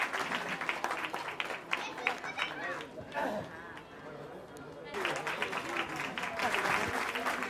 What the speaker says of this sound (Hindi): एक बार से फिर से जोरदार तालियां होनी चाहिए।